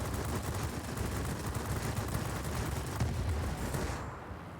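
Continuous rapid aircraft gunfire rattles from an S-199 fighter shooting at an enemy plane in the World of Warplanes combat game, a dense steady roar of shots under engine noise, tapering off at the end.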